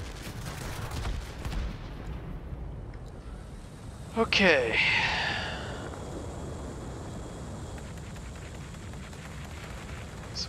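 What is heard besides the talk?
aircraft cannons firing in video game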